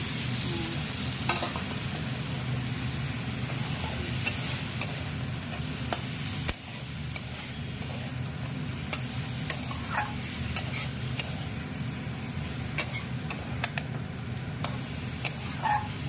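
Small prawns fry in a pan for a prawn and onion dish, giving a steady, loud sizzle with scattered clicks and scrapes of stirring throughout, with no talking.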